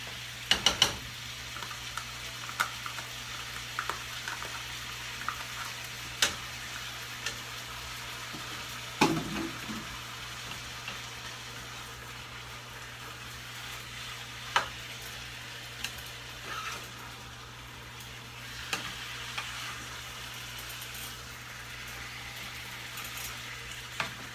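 Garlic, onion and spices frying with chicken in a pan, stirred steadily, giving a continuous soft sizzle with occasional scraping clicks from the stirring, close and even throughout.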